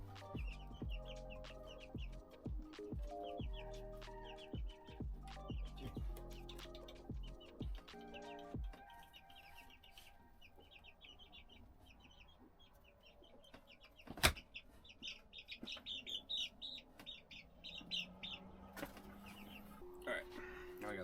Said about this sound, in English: Now we got a chicken.